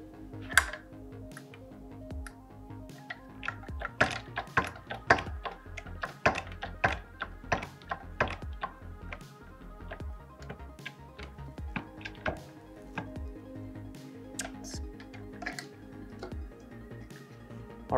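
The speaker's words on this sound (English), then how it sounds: "we're going to repeat the process of crimping this cable end" A cable end for a wood-post deck cable railing kit is crimped with a hand tool, giving a quick run of irregular clicks, ticks and dull thunks, close and fairly quiet, with no talk.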